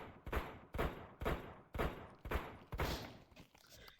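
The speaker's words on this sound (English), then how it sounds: "They have submachine guns. And they like to spam it" Enemy submachine gun fire in the VR game Brutalistick, six loud, evenly spaced bursts of shots in quick succession, each a sharp crack with a booming tail, close up and with no talk over them.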